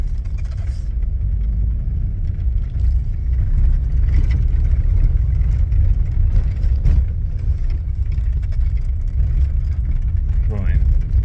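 Car with MAXLOAD air suspension set near its softest out on the road: a loud, steady low rumble of engine and road noise throughout, with a few faint knocks and rattles.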